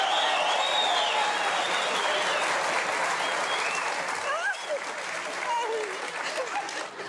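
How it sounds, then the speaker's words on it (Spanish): Studio audience applause on a Colombian television comedy show breaks out as two guests are welcomed, a loud sustained wash of clapping with a few whoops and cheers rising over it midway. "quiero que recibamos con un fuerte aplauso a Virginia y Nancy Ana, Las Terribles."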